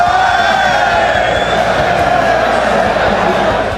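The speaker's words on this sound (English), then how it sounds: "as you can hear, the audience just brings a whole level of energy" A packed arena crowd at a League of Championship Series esports match roars and cheers continuously, a loud dense wash of voices and whoops that barely dips throughout.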